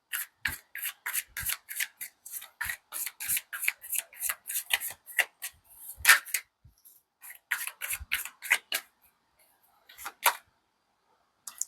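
A deck of tarot cards is shuffled by hand close up, giving quick, crisp riffling and slapping bursts in an irregular rhythm with short pauses between them.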